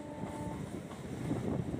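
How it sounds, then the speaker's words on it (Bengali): A train enters platform 2 at Fulia station, rumbling with rhythmic clattering of wheels on rails, a steady low roar briefly topped by a faint horn-like tone. "আমাদের ট্রেন কিন্তু 2 নম্বর মেন লাইনে ট্রেন ফুলিয়াতে 2 নম্বর প্ল্যাটফর্মে প্রবেশ করছে।"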